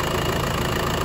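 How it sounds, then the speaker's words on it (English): A Jeep Patriot CRD diesel engine idles fully warmed up, giving a steady, loud, close rumbling drone with a faint knocking texture and no break. "I've got the engine running."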